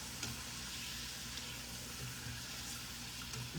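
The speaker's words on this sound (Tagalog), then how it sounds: "Dito ko na pinapatuyo sa mantika." Sweet potato pieces frying in hot cooking oil, a steady close sizzle and crackle with small pops throughout, no talking.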